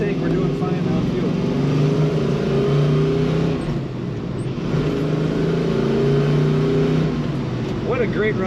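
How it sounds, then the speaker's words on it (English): A 1969 Chevrolet Camaro Z/28 coupe accelerates on the road, its V8 rumbling and rising through the revs in a steady, fairly loud drone, with a voice talking over it. "What a great running, great sounding car."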